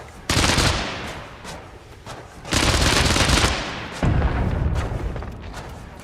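Bursts of homing-bullet gunfire from a Noita-like pixel game, loud and dense rapid volleys in three surges with brief lulls between, and no voices over the shooting.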